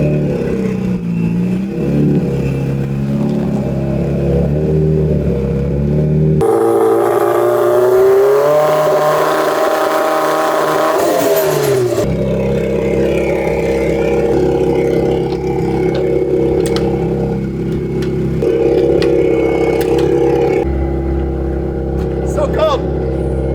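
The Gymkhana Huckster car revs hard and spins in a continuous loud engine roar with the pitch swinging as it goes round, while people talk throughout.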